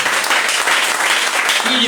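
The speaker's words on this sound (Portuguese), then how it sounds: "Uma salva de palmas para Jesus." A church congregation applauds during a worship service, a dense, steady wash of many hands clapping at close range for a couple of seconds.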